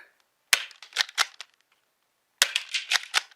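A Dart Zone Pro blaster loaded with Adventure Force Pro tactical strike darts fires at a can in two bursts of sharp, close snaps and clacks, separated by a short silence.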